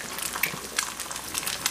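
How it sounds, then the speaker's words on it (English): Eggs frying in a pan with a pinch of kosher salt, a close, bright, continuous crackling sizzle with small pops, heard alone. "And we're going to let those eggs fry up."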